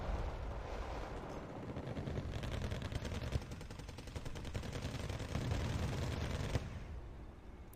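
Dense, sustained bursts of .50 cal machine-gun fire in the Wargame: Red Dragon strategy game, a steady rattling barrage with overlapping distant shots and brief sharper cracks, no talking.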